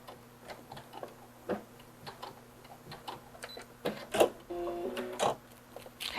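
A sewing machine back stitching runs in quick mechanical ticks and clatters, faint and uneven, with a few louder knocks and a short whirring burst near the end.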